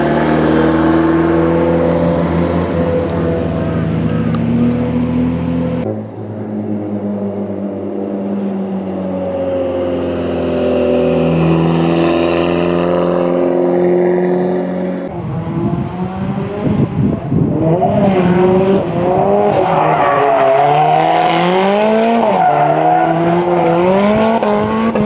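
A race car driven by Nob Taniguchi drifts at a track in South Korea, engine revving hard and continuously with rising and falling pitch while the tires squeal loudly through the slides, close and sustained.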